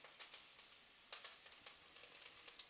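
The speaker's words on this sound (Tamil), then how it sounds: "இது இஞ்சியும் பூண்டும் இது நல்லா கொஞ்சம் பொரியட்டும்" Ginger and garlic sizzle steadily in oil in a pan, a soft, continuous crackling hiss with small pops scattered throughout, heard faintly and close with no voice.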